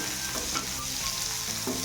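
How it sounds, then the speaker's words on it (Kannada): Onions fry in a hot pan while being stirred for jeera rice, a dense, continuous close sizzle with faint scraping movements through it and no one speaking. "ಈರುಳ್ಳಿ ಸ್ವಲ್ಪ ಬ್ರೌನ್ ಬರೋ ಗಂಟ ಕ್ಲೀನಾಗಿ ತಿರುಗಿಸಿ."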